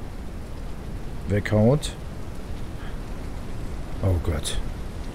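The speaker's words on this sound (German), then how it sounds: "Es regnet." Rain falls steadily in the survival video game No One Survived, a constant hiss running throughout while someone talks briefly over it.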